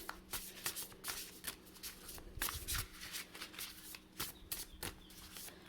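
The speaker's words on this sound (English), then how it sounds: "let's shuffle the oracle deck and see what the primary message in your reading is" An oracle card deck is shuffled close by in repeated riffling bursts, soft papery flutters separated by short pauses.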